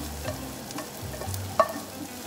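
Meat and mushroom filling being combined in a frying pan, a low sizzle with a few soft scrapes and stirs and a single small clink, quiet and close.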